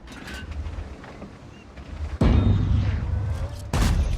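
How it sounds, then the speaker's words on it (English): World of Tanks artillery fire: a heavy booming blast lands midway and keeps rumbling, with a second loud impact near the end over a steady low engine drone. "This artillery is just taking all my hit points."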